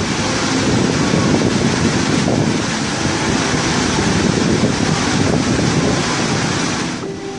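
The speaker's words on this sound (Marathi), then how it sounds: "फक्त आवाजच पुरेसा आहे या महाकाय धबधब्याचं वर्णन करण्यासाठी।" Gokak Falls, a huge waterfall in Belgaum district, roars in a dense, continuous broadband rush of pounding water, loud and steady throughout without any voices.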